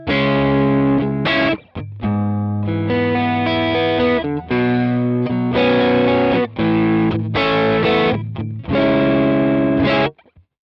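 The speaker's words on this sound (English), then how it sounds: "So a nice smooth overdrive," Electric guitar through a Quad Cortex with a smooth overdriven tone plays sustained chords and riffs, loud and close, with brief pauses between phrases.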